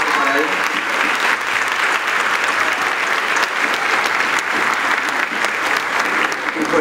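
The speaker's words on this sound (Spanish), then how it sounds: "Quiero un aplauso para ellos." Sustained applause from an audience at a rondalla group's album presentation, dense and steady clapping filling the whole stretch without letting up, close and fairly loud.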